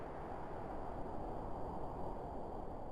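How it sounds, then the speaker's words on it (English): Arctic wind sound effect for a mountain biome in an indie video game, a steady, low, rushing roar of wind that holds at an even level without gusts or other sounds. "you can hear there's a kind of Arctic wind sound effect."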